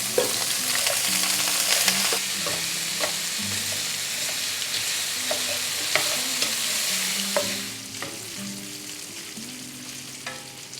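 Bacon frying in olive oil in a skillet over medium heat makes a steady sizzle with occasional pops and utensil scrapes, fading slightly near the end, while soft background music plays and no one speaks.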